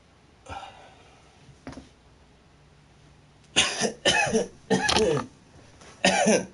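Two isolated coughs, then a burst of several harsh coughs in quick succession, close and fairly loud.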